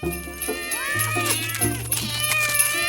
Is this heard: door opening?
no